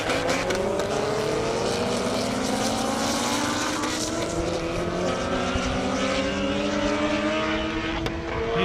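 A Saturn and a Corvette drag race down a half-mile airport runway in Indiana at over 200 mph, engines roaring loud and steady with climbing pitch as they accelerate, the blare continuous for the whole stretch.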